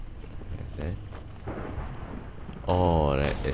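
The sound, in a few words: thunder from lightning in Minecraft video game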